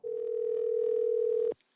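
A steady telephone dial tone holds loud and unbroken, then cuts off abruptly near the end.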